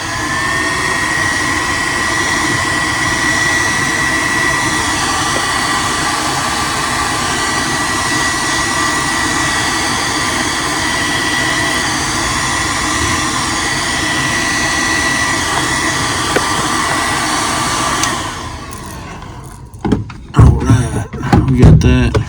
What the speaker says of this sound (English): Now we're gonna get a little hair dryer and dry that and switch colors.